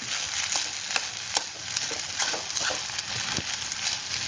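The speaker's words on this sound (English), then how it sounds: "you have to stir it gently because now it's almost done here after 5 minutes of just stirring it" Rice being stirred in a hot pan for Chinese fried rice gives a steady sizzle with repeated soft scraping strokes close up, no talking.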